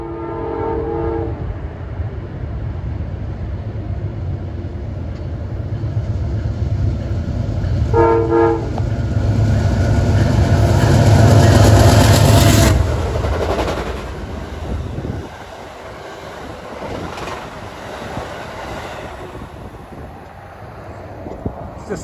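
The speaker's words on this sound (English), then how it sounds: "the eastbound Pennsylvanian is approaching en route from Pittsburgh to Philadelphia" The eastbound Amtrak Pennsylvanian diesel passenger train approaches with two horn blasts, then a swelling rumble of engine and wheels that peaks and rolls past before easing into quieter clatter.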